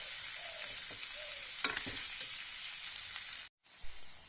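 Olives, likely unripe, stir-fried in a pan over a low gas flame for olive jelly, giving a steady close sizzle with scraping stirs and one sharp clatter before a brief cutoff.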